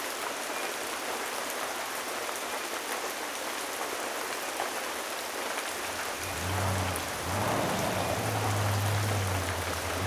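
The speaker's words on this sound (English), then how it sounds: "I had the chance to do a rain scene in this film. I've not done that before, where we simulated rain on camera." Simulated rain for a film scene falls in a dense, steady hiss across the whole stretch, with a low rumbling, machine-like hum joining in partway through, loud and continuous with no voices.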